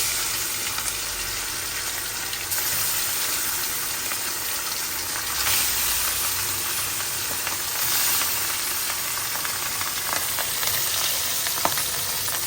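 Katla fish pieces fry in oil in a pan with a loud, continuous crackling sizzle that holds steady throughout, with faint stirring noises.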